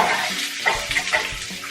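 Vegetables cut into similar shapes are stirred in a hot pan, oil sizzling steadily while a utensil scrapes and clinks against the pan in a few irregular strokes, close up.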